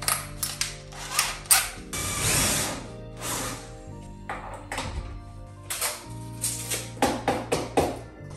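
A hammer taps during window renovation as mouldings are removed, giving sharp, close hits in irregular clusters with short scraping and rattling noises between them. No one talks.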